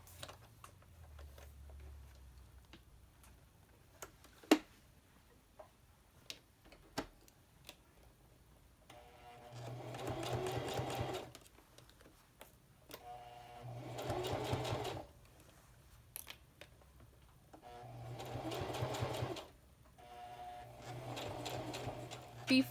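A sewing machine sews a straight stitch along a fabric headband in four separate bursts of rapid mechanical whirring, close and clear, with quiet ticks and handling clicks in between.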